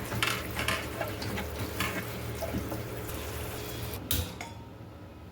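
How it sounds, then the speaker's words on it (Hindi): Potatoes swished and rinsed in a bowl of water in a home kitchen, with steady sloshing, splashing and faint clinks of the bowl close by, running continuously with no talk. "बिल्कुल साफ से हमें आलू को धोना है।"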